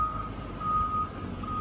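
Steady electronic reversing beeps ring out from a truck pulling a second trailer, sounding as a sustained high tone over a low engine rumble and background noise.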